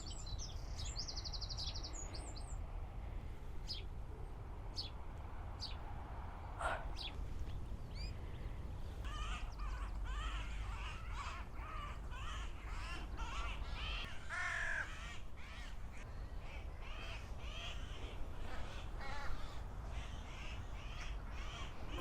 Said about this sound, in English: there's always lovely sounding birds around here as well.